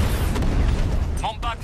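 Incoming fire in Batman Arkham Knight: heavy low booms and rumbling blasts from the game, with a few brief electronic tones near the end.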